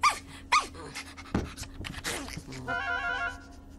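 A dog in an animated cartoon episode pants in quick, close, rhythmic breaths, with a couple of sharp vocal yips at the start and a short whimpering tone near the end.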